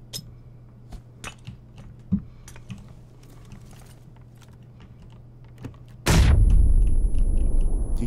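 Gunfire in the PUBG video game: scattered sharp shots and clicks, then a sudden loud, sustained burst of heavy firing close by near the end.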